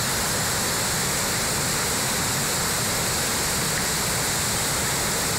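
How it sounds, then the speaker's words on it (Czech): A steady, powerful roar of rushing water from a wild, swollen stream in Tábor, Czech Republic, flowing toward the Lužnice river, broad and constant, with no voices. "z toho divoká, široká řeka valící se směr Lužnice"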